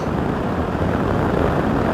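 A BMW R1200RS motorcycle engine pulling in fourth gear at about 4,000 rpm: a continuous, loud drone with low rumble and steady roar, holding an even pitch throughout.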